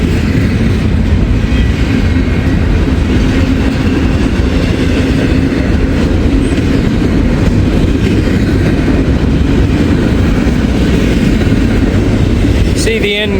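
A Norfolk freight train carrying single-stacked containers rolls past close by, a continuous loud rumble of wheels and wagons with steady clatter throughout.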